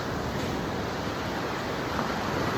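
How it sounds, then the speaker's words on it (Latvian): Sea waves wash onto a beach in a dense, steady roar of surf mixed with wind buffeting the microphone, loud and unbroken, with no voices. "Tagad nav meža studija, tagad ir jūrmalas studija."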